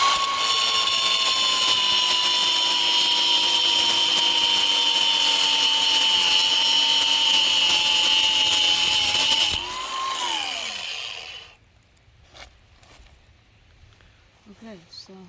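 A power saw cutting DWV plumbing pipe under a mobile home, a loud sustained whine for about nine seconds that winds down, leaving quiet handling noises and a voice.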